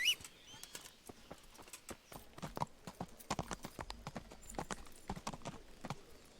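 Horse hooves clip-clopping in the medieval video game Kingdom Come, a quick uneven run of sharp, fairly close hoofbeats that steadies into a faster gallop rhythm, with no talking over it.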